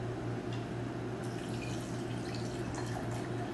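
Hot water being poured onto jam at a bar counter while mixing a sustainable cocktail: a steady, close liquid stream with soft drips, under a constant low hum and no talk.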